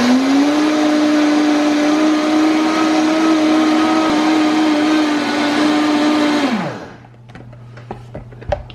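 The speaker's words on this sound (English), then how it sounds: "So I'm just pouring some old-fashioned oats into my high-speed blender." A Vitamix high-speed blender grinds old-fashioned oats into flour with a loud, steady whirring motor roar that holds for about six seconds, then winds down, leaving faint clicks and rattles.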